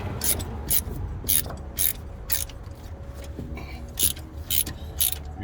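Ratchet clicking in regular bursts while tightening a spark plug on a 1997 Dodge Ram 1500 with a 5.2 L engine, close and fairly loud, about nine quick clicking strokes over a low background hum.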